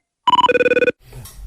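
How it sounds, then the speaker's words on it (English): The CTU phone ringtone from the TV series 24 plays loud and close as a fast electronic trill, with a high burst followed by a lower burst, and then a brief muffled rustle. "It was really cool for a little bit to have the same ringtone as CTU agents."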